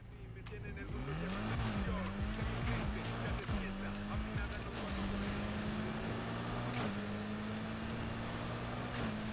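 A car drives in the racing video game Need for Speed Heat, its engine droning steadily with rising and falling revs and gear shifts under continuous play, with a voice talking over it.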